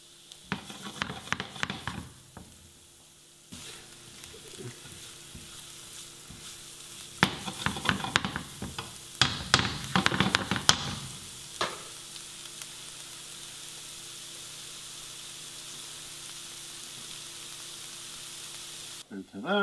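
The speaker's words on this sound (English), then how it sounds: "In a pan, a little bit of that same bacon grease, the bacon oil. And you got the onions and garlic." Onions and garlic frying in bacon grease in a pan, a steady sizzle with bursts of stirring and scraping, loudest in the middle stretch and fading to a quieter hiss toward the end.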